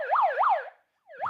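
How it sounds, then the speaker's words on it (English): A bullhorn's electronic siren wails in rapid up-and-down sweeps, pauses briefly, then starts again, close and clear. "It's on the siren right here."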